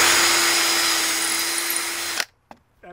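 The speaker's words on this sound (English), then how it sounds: "I'm going to go ahead and drill this little hole the rest of the way through." A power drill whines steadily at high speed for about two seconds, then stops abruptly, followed by a couple of faint clicks.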